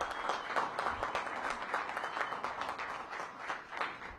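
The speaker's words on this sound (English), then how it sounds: "Give them a big round of applause." Steady applause from an audience at a mayoral press event launching a downtown housing program, dense clapping sustained without a break at moderate level.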